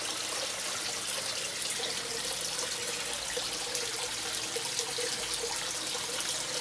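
Water pours steadily into goldfish tanks, making a continuous soft splashing trickle that stays fairly quiet and even from start to end, with no one talking.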